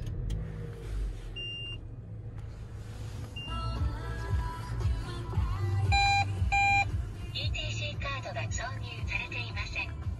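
Door warning beepers in a 2018 Toyota Sienta G 4WD with a 1500cc engine give short, repeated electronic tones in several pitches, close by, with a quiet car interior hum and some murmured talk underneath.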